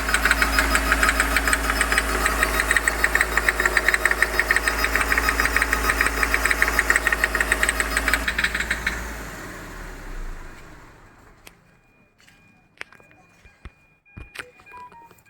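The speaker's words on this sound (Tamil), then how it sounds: "டக்கு அடிக்குது. இது என்ஜினோட ரிதமே கிடையாது." A Hyundai Xcent engine with an injector fault knocks in a rapid, steady metallic rhythm for about eight seconds, loud and close, then winds down and stops, leaving scattered faint clicks and background noise.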